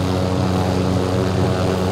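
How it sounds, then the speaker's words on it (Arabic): A helicopter in Call of Duty Warzone gives a loud, steady rotor-and-engine drone that holds without a break, with no voices over it. "هليكوبتر هنا هليكوبتر"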